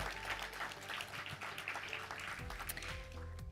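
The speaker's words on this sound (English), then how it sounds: "So big applause." Applause from an audience at a women-in-tech awards ceremony, a dense steady patter of clapping throughout, fairly quiet and even, with no talking over it.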